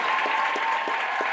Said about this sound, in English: a big round of applause for Dr.